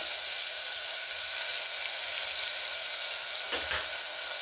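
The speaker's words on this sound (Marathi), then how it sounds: "तेल गरम झालंय आपण मोहरी आणि जिरे घालूया त्यातच कांदा घालायचा आहे कडीपत्ता घालूया" Mustard seeds, cumin, onion and curry leaves fry in two spoons of hot oil, a loud continuous close sizzle with one brief clatter of a spoon near the end.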